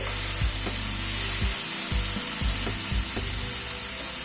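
Ridge gourd curry with green chillies and raw mustard oil stirred in a pan, soft frying hiss with a few scraping strokes of the spoon, close and moderate in level, no voices.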